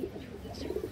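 A female pigeon offered for sale gives a short, low, soft cooing murmur close by, quiet and muffled over faint background noise.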